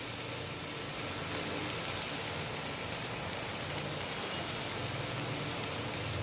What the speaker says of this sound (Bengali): রসুনটা একটু হালকা ভেজে নিচ্ছি